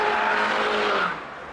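A Mini Cooper S turbocharged engine revving hard on overboost under full throttle, a loud rising howl held for about a second before dropping off sharply.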